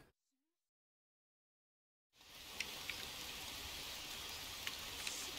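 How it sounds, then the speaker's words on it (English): Rain falling in the survival game Green Hell: after a couple of seconds of silence, a steady hiss of rainfall begins and continues evenly, with a few sharper droplet taps standing out against the wash. "Wait, the fire went out! It's raining!"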